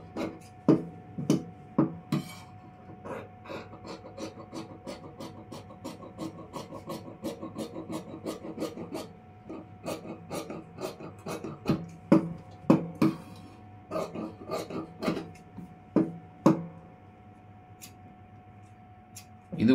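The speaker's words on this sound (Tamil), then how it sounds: "கட்டிங் பண்ணிடுறேன்." Scissors cut blouse fabric in a long run of close, rasping snips, some louder than others, with soft rustling between them.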